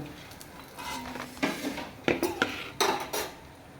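Fried potato and Maggi snacks are lifted from the pan onto a plate with several sharp metal clinks and scrapes of utensil against cookware, close up over a faint sizzle.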